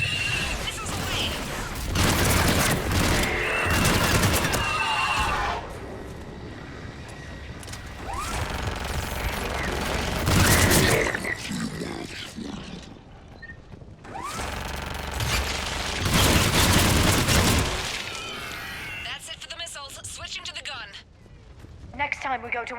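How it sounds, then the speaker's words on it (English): Missiles launch and explode in the Mass Effect 3 video game, with loud repeated bursts and booms alternating with quieter stretches, under shouted dialogue and combat noise. "Missiles away!"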